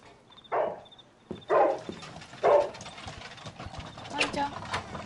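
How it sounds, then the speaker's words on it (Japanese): A dog barking three times in quick succession, sharp and close, followed by quieter sounds and a brief human voice. "ワンちゃんどうしたの？"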